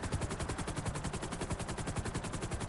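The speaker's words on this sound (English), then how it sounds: "when you shoot a gun, like these guns right here, they actually wind up. You can hear the noise" Video game guns fire in a continuous rapid burst, a dense mechanical rattle of shots repeating at a fast even rate, loud and close throughout.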